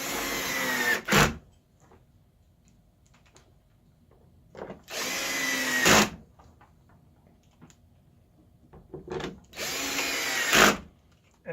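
A power tool driving bolts while a Ram projector headlight is reassembled, three separate whirring bursts of a few seconds each with quiet gaps between, close and fairly loud.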